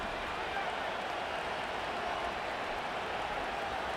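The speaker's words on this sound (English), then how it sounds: "What about this crowd getting even louder before 3rd and 10?" A football stadium crowd roars as a continuous, dense wash of noise, steady and loud throughout with no distinct individual voices.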